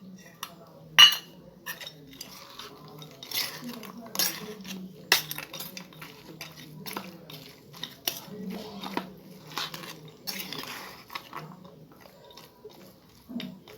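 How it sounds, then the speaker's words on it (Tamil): A spoon stirs nuts into a coconut stuffing for a maida-based sweet, giving repeated light clinks and scraping taps against the bowl in an irregular rhythm, close and moderately quiet, with no talk. "நம்ம செஞ்சு வச்சுருக்க இந்த தேங்காய் ஸ்டஃபிங்கில் நம்ம நட்ஸை போட்டு கலந்துக்கலாம்"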